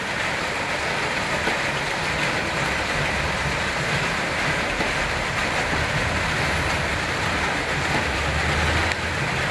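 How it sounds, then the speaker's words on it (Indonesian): Heavy rain falls near a front porch, a steady dense hiss and patter that stays loud and even from start to finish with no voices. "Sekarang lagi hujan, jadi suara berisik itu suara hujan."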